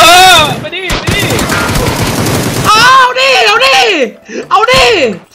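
Rapid automatic gunfire from a video game rattles in a dense burst and then in shorter bursts, while someone talks loudly and excitedly over it.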